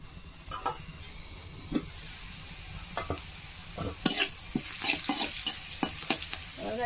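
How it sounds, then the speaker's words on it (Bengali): Taro stems frying in a pan with oil for a traditional Bengali village curry, a steady sizzle broken by repeated scraping stir strokes that grow busier toward the end, close and moderately loud with no talking. "আর একটু ভালো করে ভেজে নেবো কিন্তু"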